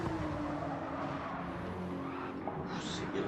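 A Porsche GT3 race car is pushed hard around the Nürburgring Nordschleife, its engine a sustained, fairly distant roar beneath a commentator's voice.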